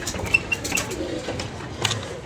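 Pigeons cooing nearby, soft low throaty coos repeating over a faint background murmur, with a few sharp chirps mixed in.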